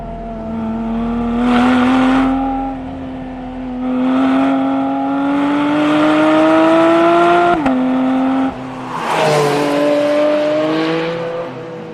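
A Porsche GT4 RS drives hard along the Tail of the Dragon, a mountain road in the Blue Ridge Mountains with 318 curves over 18 km. The engine revs rise and fall through repeated gear changes, loud and close, with no voices.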